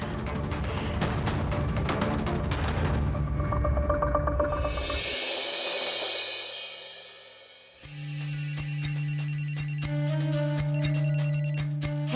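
A telephone rings in a domestic Indian TV drama scene, a steady electronic ringtone with repeating tonal bursts that is loud and alone for several seconds after background music fades out.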